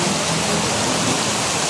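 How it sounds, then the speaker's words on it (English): Heavy rain pouring in Hat Yai, Thailand, a dense, steady hiss of water hitting surfaces nearby, loud and unbroken with no voices. "Heavy raining here in Hat Yai,"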